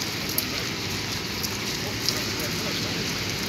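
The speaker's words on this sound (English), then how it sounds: "And it's raining again." Steady summer rainfall in Sweden hissing across the whole stretch, a dense wash of drops landing on surfaces with a few sharper taps standing out.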